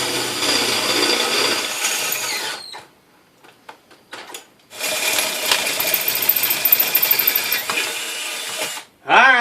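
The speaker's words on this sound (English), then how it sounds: "Alright, we got the holes drilled." A power drill bores holes into a table while building a single-burner forge, running in two loud sustained bursts of whirring and grinding separated by a brief quiet gap with small clicks, then a short final burst.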